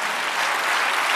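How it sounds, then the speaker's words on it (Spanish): A church congregation applauds during a Spanish-language sermon, a short, thick burst of many hands clapping together at close, full volume. "Dale un aplauso al Señor."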